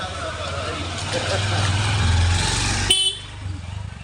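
Motorcycles and other street traffic rumble close by in a lane, a horn honks near the end, and the engine noise drops away abruptly afterward.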